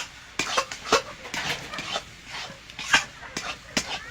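A spoon stirs roasted cumin into a bottle gourd and prawn curry in a pan, with repeated scraping and clinking against the metal in an irregular rhythm under a soft sizzle, close and fairly quiet.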